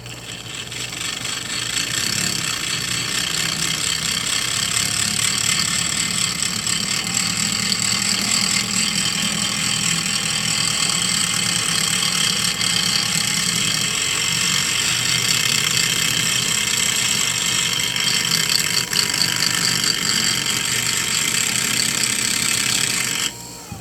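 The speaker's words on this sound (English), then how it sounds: "A lot easier to take rock off with this aluminum oxide grinding wheel than it is the sandpaper barrels." Rotary tool with an aluminum oxide grinding wheel removing rock from a fossil echinoid, a continuous high-pitched whine and grinding hiss held steadily for over twenty seconds, close and loud.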